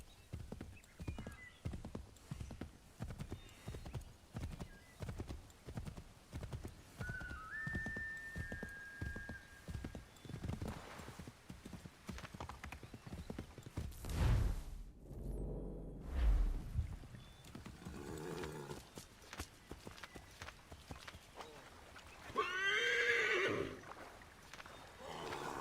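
A horse in the Assassin's Creed III game clops along with steady hoofbeats, then gives a loud neigh partway through, with another whinny near the end.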